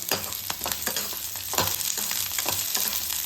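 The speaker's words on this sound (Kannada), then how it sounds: "ಕೆಂಪು ಬಣ್ಣ ಬರೋವರೆಗೂ ಹುರ್ಕೊಳ್ಳೋಣ ಅದರ ಜೊತೆನೇ ಒಂದು ಇಂಚು ಶುಂಠಿ ಕೂಡ ಹಾಕೊಳ್ಳೋಣ" Spices and ginger sizzle and crackle steadily in hot oil in a pan, a dense continuous frying hiss with occasional stirring scrapes for brinjal palya.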